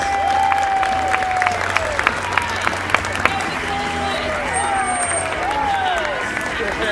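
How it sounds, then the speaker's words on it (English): Crowd applause in the stadium at SeaWorld San Diego for the killer whales, scattered claps and cheering with a murmur of voices, tonal whistling sounds and a low hum underneath. "Let's give a big round of applause for our whales and our new friends."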